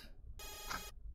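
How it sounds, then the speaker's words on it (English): A phone's news app notification chime plays once, a short bright electronic tone lasting about half a second, quiet against faint room background, with no one talking during it. "It was my news app telling me about dumb stuff."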